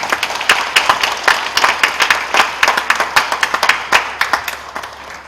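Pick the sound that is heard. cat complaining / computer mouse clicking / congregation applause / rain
congregation applause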